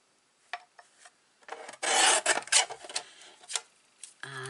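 Cardstock for a handmade card is cut in short rasping strokes, a few quick scratches followed by a longer sustained slicing rasp, close and clear, with no speech.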